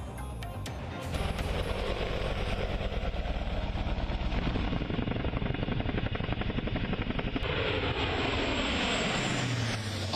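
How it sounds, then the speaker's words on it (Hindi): Military helicopters roar steadily overhead at a forward landing ground in Ladakh, a loud continuous rotor and engine drone that fills the whole stretch without a break. "आसमान में घूमते इन हेलीकॉप्टर्स की गर्जना सीमा पार घात लगाकर बैठे दुश्मनों को आगाह कर रही है।"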